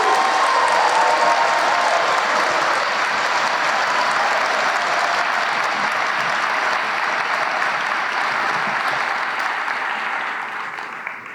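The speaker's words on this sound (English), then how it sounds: "seniors, would you please give a round of applause to these people who have done so much?" A large audience at a 2023 Class Day ceremony gives a long round of applause, loud, dense and continuous, with some faint cheering mixed in, tapering off slightly at the very end.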